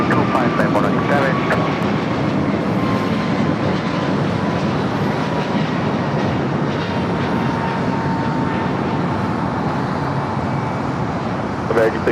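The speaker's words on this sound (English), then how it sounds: "This 11-year-old A380 Super. LA Tower, wind 1105, runway 25 left, to land." An 11-year-old Airbus A380 from Seoul lands on runway 25 left at LAX, its broad engine roar steady and loud throughout, with a faint high whine and radio voices talking over it.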